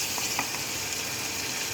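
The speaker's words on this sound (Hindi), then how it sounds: "थोड़ी देर इसको इससे प्याज में तलना है।" Chicken fries with onions in a pan with a steady broadband sizzle and a few faint stirring clicks, close and constant throughout.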